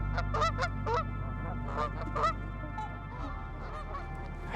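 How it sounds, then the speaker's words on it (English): Trumpeter swans at a waterfowl park in Burlington, Ontario, giving a run of nasal, horn-like honks, several birds calling in quick bursts at moderate distance over a low steady rumble. "home to a number of familiar species of waterfowl, including nearly 100 trumpeter swans"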